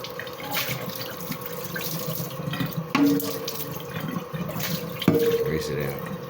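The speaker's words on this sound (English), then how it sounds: "I'm gonna go to the cold water." Cold tap water runs into a kitchen sink during dishwashing, a steady splashing stream with a few sharper clinks and drips on top and a voice briefly audible underneath.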